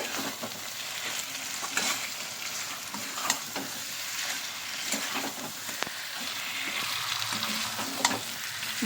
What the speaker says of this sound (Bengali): আলু পটলটা আমি দিয়ে দেব নেড়ে চেড়ে আর একটু কষিয়ে নেবো